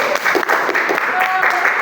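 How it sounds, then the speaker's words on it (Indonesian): Brief applause for a student group in a school classroom session, a short burst of clapping with voices talking over it. "tepuk tangan untuk kelompok"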